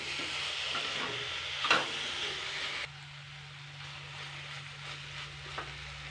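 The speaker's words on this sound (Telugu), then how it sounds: "వేయాలండి రెండు నిమిషాలు ఫ్రై చేయాలండి వీటిని" Boiled broad beans and potato pieces fry in a pan with a steady close sizzle. A brief stirring clatter cuts through partway, then the hiss settles to a quieter level.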